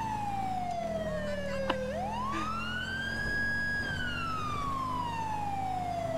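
A police car siren wails during a pursuit in GTA 5. It sweeps down and then rises and falls in a long, steady tone over a low engine rumble, at moderate volume with no talk.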